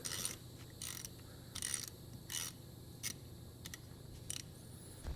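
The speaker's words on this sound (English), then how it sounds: "Then we're gonna hit that last bolt on this thing with that golden ratchet for good luck." A gold-plated ratchet tightens the last bolt on a cheap four-wheeler, giving a series of quiet, rapid clicking bursts in an irregular rhythm over a low background hum.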